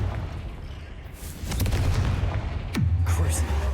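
Fiery Confringo spell blasts from Hogwarts Legacy boom and crackle in quick succession, with a sharp whooshing impact near the end over a rumbling game soundscape.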